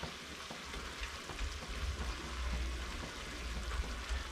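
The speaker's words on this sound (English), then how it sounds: "Mix that through so the tomato paste and flour are all thoroughly blended." Stock being stirred into tomato paste and flour in a pan for a lobster bisque, a steady soft sizzle and wet scraping of liquid being mixed through, moderately close and continuous with no voices.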